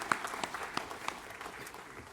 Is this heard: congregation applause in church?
yes